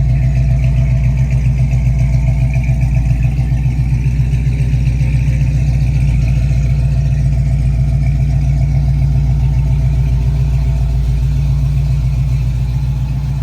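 A 1969 Chevrolet C10 pickup's engine idles steadily and loudly up close, a deep even rumble with a fast regular pulse held throughout and no talk over it.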